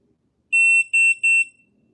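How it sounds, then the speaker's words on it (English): A shooting timer gives three sharp, high electronic beeps in quick succession, each a fraction of a second long, close and loud against near silence. "Beep, beep, beep, beep. That's what it's gonna do."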